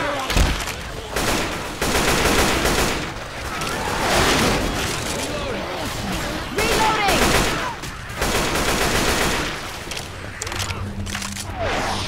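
Rapid gunfire crackles through a Left 4 Dead 2 co-op finale on the bridge in The Parish, dense overlapping shots and bursts running throughout, with players talking over the shooting.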